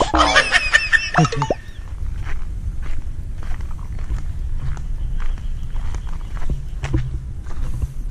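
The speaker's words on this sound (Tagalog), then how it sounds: "May manok" A chicken clucks and squawks close by at the start, a quick run of sharp calls, then gives way to quiet outdoor ambience with soft footsteps.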